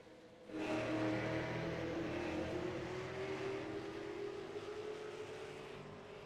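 Race cars roar around the short oval track in a close pack during a race, a sustained loud engine drone with a slowly rising pitch as cars pass, distant and steady with no talk.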